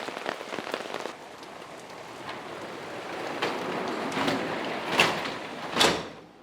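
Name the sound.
heavy rain downpour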